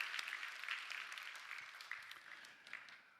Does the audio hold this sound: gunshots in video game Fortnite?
no